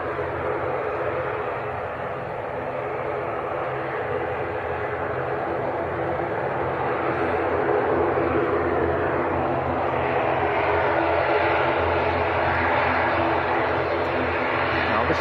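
A Loganair plane in Isle of Man livery taxis at Manchester Airport, its engine a steady broadband roar and hum that swells slightly toward the end, with a voice commenting over it.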